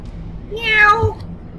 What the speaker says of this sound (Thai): เป็นแมวครับน่ารักชิบหาย